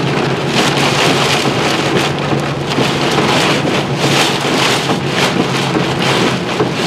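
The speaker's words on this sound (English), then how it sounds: "That wind's coming hard." Strong storm wind roars steadily in the open during a tornado-warned Ohio thunderstorm, with rain hissing and buffeting gusts battering the microphone in a dense, unbroken wash of noise.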